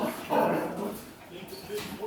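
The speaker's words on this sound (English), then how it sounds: "Hey, puppies." Havanese puppies whimper and yip softly in a short burst, their small cries mixed with a person speaking over them nearby.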